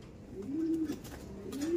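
A line-bred racing pigeon gives a soft rolling coo twice, close by, over a low background murmur.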